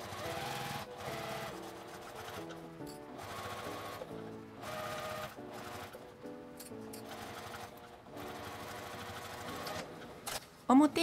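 A sewing machine runs a 5 mm seam joining a zipper to fabric, with bursts of steady mechanical stitching broken by short pauses, close and fairly loud, ending in a few handling knocks.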